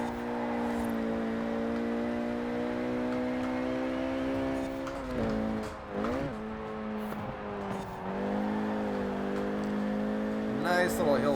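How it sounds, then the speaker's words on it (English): Engine of a Renault Clio RS 197 in Forza Horizon 4 droning steadily, then revving and dropping through shifts, with brief crackles on deceleration near the end. "This thing sounds so good on decel when it starts popping and backfiring."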